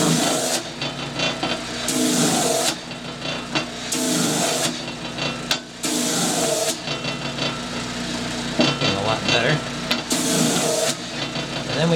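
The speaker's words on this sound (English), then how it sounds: "My little sanding mop and my sanding roller here to smooth out a few things." Repeated bursts of hissing, rasping abrasion as a rotating sanding mop works over wooden business card holders, starting and stopping at irregular intervals with a steady motor hum beneath.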